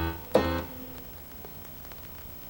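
A slow modern blues left-hand bass line on piano: one low note or chord is struck firmly, then rings and fades quietly with no further notes.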